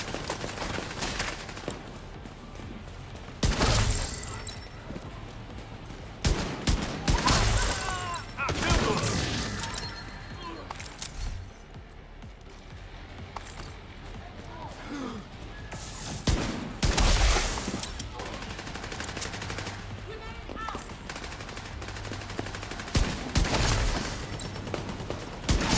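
Automated turrets trade fire in The Division 2, bursts of loud gunfire and crashing impacts flaring up repeatedly over a dense, continuous wash of game noise.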